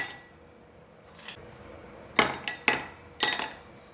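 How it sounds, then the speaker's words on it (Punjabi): Ice cubes drop into a glass for an aloe vera and litchi juice, several sharp clinks coming singly and in quick pairs against a quiet room, with no talking. "ਹੁਣ ਅਸੀਂ ਇਹਨੂੰ ਗਲਾਸ ਵਿੱਚ ਪਾ ਲੈਂਦੇ ਬਰਫ਼ ਪਾ ਲਾਂਗੇ"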